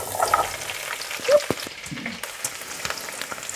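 Stir-fry vegetables frying in a pan on an electric stove at medium-high heat, crackling sizzle with a few sharp pops and stirring scrapes, close and steady without talking.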